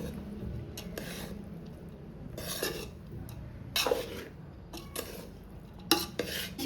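Chicken egg fried rice being stirred in a pan, with repeated scraping and clinking strokes of a spatula against metal at an uneven rhythm over a faint sizzle, close and fairly quiet.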